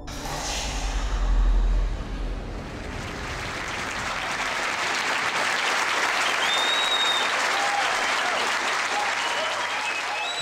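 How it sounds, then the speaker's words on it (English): Members of the Federalist Society, a conservative legal group, give Robert Bork sustained applause, a broad steady wash of clapping that swells in after a brief lower rumble and holds strongly to the end. "the sustained applause is from members of a new conservative legal group, the Federalist Society"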